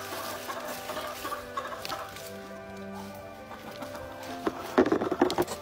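Hens cluck on a farm during egg collection, a steady low murmur of soft clucks with a sharper burst of louder clucking near the end, no talk.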